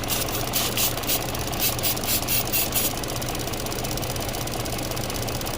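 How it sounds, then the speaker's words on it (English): 1.8-liter engine of a 2014 Chevrolet Sonic idling roughly, a constant close mechanical drone with a low hum and uneven ticking pulses near the start. "This thing just kept running worse and worse and worse the longer I left it idle."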